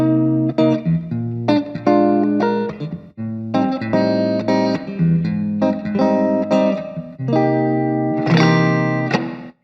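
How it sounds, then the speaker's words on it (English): Electric guitar played through a budget reverb pedal on its spring setting, with chords strummed in phrases and a splashy, lingering reverb tail between them. "What do you say we move on to spring?"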